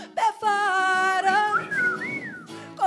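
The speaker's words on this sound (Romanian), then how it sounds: "Bărbatul fluieră pe afară" A man whistles a clear melodic tune, sustained tones with a gliding rise and fall, close and fairly loud, with a singer's voice and accompaniment around it at a live pub performance.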